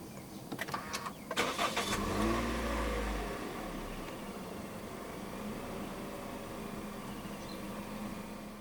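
A 2018 Toyota Corolla Altis 2.0 V push-button start: a few clicks, a brief starter crank and catch, a quick rev, then the engine settles into a quiet, steady idle.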